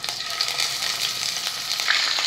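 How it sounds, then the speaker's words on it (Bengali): Bhetki fish pieces fry in hot oil for a yogurt fish curry, giving a steady, dense sizzle with a few crackling pops, close and even in loudness with no voices. "মাছগুলো লাল লালভাবে ভেজে নেব"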